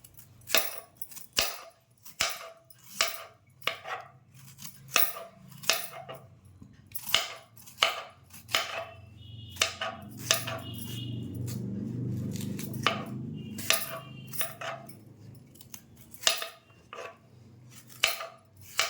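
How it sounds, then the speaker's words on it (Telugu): A knife slices raw mango pieces off the seed, a quick series of sharp, close cuts and clicks that pause briefly under a low rumbling background before the chopping resumes. "టెంకకున్నది కూడా ఇలా కట్ చేసుకోవాలండి"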